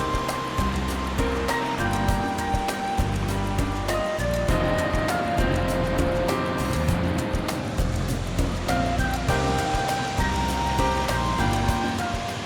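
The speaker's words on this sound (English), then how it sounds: "So this is the Virgin Falls, the tallest of them all" Virgin Falls, the tallest waterfall along a hiking trail in Glacier National Park, Montana, a steady broad roar of falling water with a tone running through it, continuous and fairly close.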